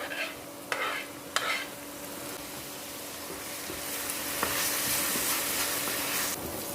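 Chopped onion and garlic sizzle steadily in hot oil for a homemade pizza and pasta sauce, a broad close frying hiss with a few sharp scrape-like clicks early on and the sizzle swelling louder toward the end, no voices.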